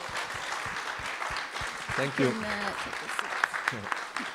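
An audience applauds at an artist talk, dense clapping running under a speaker who thanks the crowd and asks them to sit.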